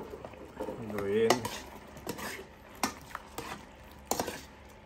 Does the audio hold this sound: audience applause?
no